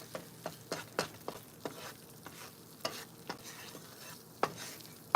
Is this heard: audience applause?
no